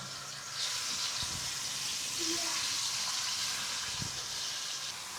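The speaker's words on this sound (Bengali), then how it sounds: "মাছগুলা তুমি আস্তে আস্তে ভেজে নাও" Fish frying in a pan at home, a steady soft sizzle and hiss close by, with a couple of faint knocks and brief quiet voices.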